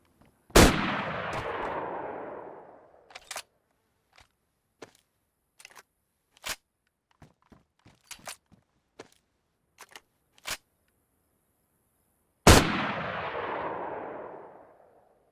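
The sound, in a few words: double barrel shotgun firing in video game DayZ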